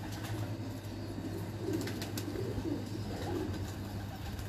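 A loft of fine breeder pigeons coos continuously on a closed rooftop, several soft murmuring calls overlapping near and far over a steady low hum, with a few brief flutters.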